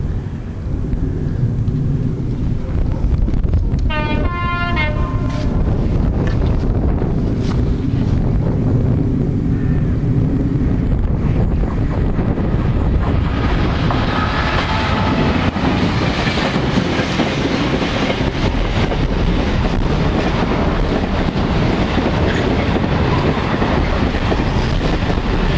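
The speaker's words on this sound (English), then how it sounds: "I love the clickety clack over the" A Class 67 locomotive hauls a Freightliner train over the Aliwal Road level crossing, heavy rumbling wagons passing close with rhythmic clickety-clack, a horn-like tone early on, and wind buffeting the microphone.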